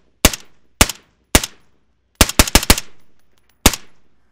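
A 5.56 rifle fires through a VELOS low back pressure suppressor: eight sharp, close reports, several isolated and a quick burst of four in the middle, each with a short decaying tail and silence between.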